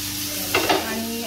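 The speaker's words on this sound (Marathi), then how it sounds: "बघा अशा प्रकारचे बोंबील फ्राय होतात" Bombay duck (bombil) fish frying outdoors at a farmhouse, a steady close sizzle with two brief louder bursts near the middle.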